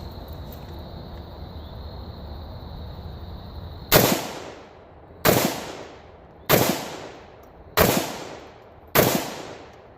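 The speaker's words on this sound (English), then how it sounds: "We're going to take some slow shots first." A rifle fitted with a BD3-AKD muzzle brake fires five slow single shots after a quiet stretch, each a sharp, loud close-range blast with a short decaying tail, spaced roughly a second and a quarter apart.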